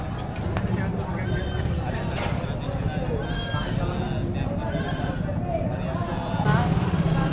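Goats, likely native breed, bleat repeatedly at a livestock market amid a busy crowd of chatter and background engine noise, the animals fairly close.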